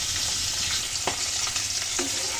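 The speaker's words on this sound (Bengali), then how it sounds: "মাছগুলো ভেজে নিচ্ছি।" Small puti fish fry in hot oil in a pan, a steady bright sizzle with a few soft scrapes from stirring, close and constant throughout.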